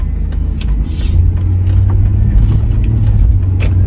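A car drives slowly through a turn, its steady low engine rumble and tire drone heard from inside or close by, continuous and fairly loud, with no talking.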